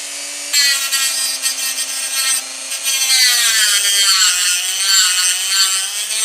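A tungsten electrode grinds against a spinning cutting disc in a 3D printed PLA sharpener, a harsh, sustained rasping whine close up that swells and wavers as the electrode moves.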